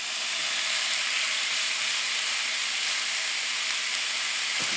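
Food sizzles inside a Ninja Foodi Air Fryer Grill XL, heard as a steady, even hiss of frying and steam with a faint low hum beneath, no talking.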